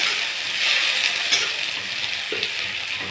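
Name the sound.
onion frying lightly in pan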